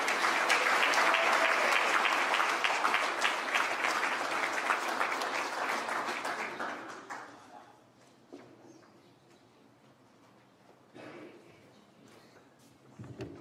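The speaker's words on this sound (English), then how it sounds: "One more round of applause for John Albert." A hall of fame crowd at a high school athletic induction ceremony bursts into dense, steady applause for about seven seconds, then it fades into a quiet room with only a few stray claps and faint rustling.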